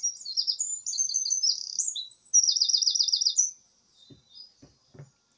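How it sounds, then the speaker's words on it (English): Several birds chirp and trill in quick, high repeated phrases for a few seconds, followed by a few faint low thumps. "Hear those beautiful birds in the background?"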